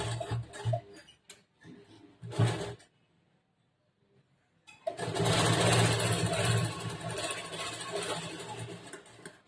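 A sewing machine stitching a boat-neck blouse, with short bursts of rapid whirring stitches, a brief pause, then a longer steady run of stitching, close and loud.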